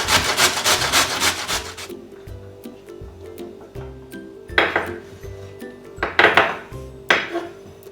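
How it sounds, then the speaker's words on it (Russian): A large carrot rubbed over a coarse grater with rough scraping strokes, first in a dense rapid run, then quieter with scattered clinks, followed by bursts of strokes toward the end. "Одну крупную морковь натираю на крупной терке."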